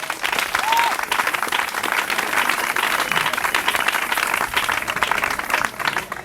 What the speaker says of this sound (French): Est-ce que tu acclames pour que je commence?